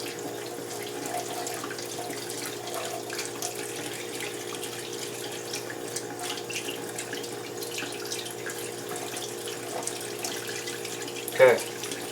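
Tap water runs steadily into a sink as a comb is rinsed under it, a continuous close hiss with light splashing and a brief louder splash near the end.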